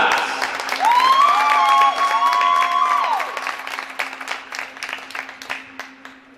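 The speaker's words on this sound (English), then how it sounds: "please give another round of applause for the Women's D2 ACHA Senior Class" An audience at a college ice hockey game applauds the women's D2 ACHA senior class with a loud burst of clapping and crowd noise, while a whistle-like tone sounds early and the applause fades gradually.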